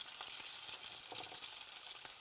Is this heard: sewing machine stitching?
no